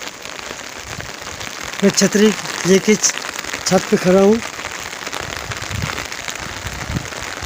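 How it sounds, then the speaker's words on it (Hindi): Heavy rain hisses steadily on a village rooftop under an umbrella, a dense, constant wash of drops throughout, while someone speaks over it in the middle. "कितनी फास्ट बारिश हो रही है।"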